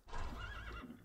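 A single horse neighs in a video game in one short, clear whinny, close and fairly quiet, with nothing else around it.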